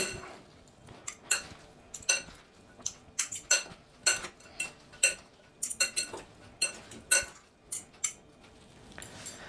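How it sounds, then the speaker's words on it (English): A utensil mixes salt and pepper into ingredients in a bowl, making a run of sharp, irregular clinks and scrapes against the bowl at close range. "And make sure that you mix it."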